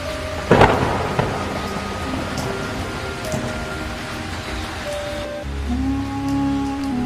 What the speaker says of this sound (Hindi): तेज बारिश, आंधी और बिजली की चमक ने सब कुछ हिला दिया।